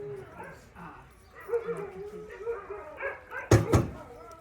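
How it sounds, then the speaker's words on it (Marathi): Dogs whine and cry in short, rising whimpers over several seconds, close by and moderately loud, with people talking around them. "कुत्र्यांचं एक काय चाललंय काय माहिती सारखे रडतायत कुत्रे"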